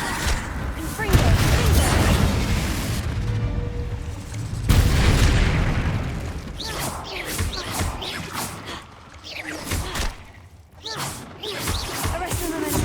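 Repeated booming Confringo fire-spell blasts in Hogwarts Legacy ring out in rapid succession amid layered combat effects, with loud impacts near the start and again mid-clip over busy battle noise.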